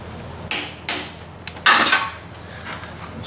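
A 12 mm socket on a ratchet cracks bolts loose on a Mitsubishi Outlander, heard as a few sharp metallic clicks and knocks spaced apart at close range, with no talk.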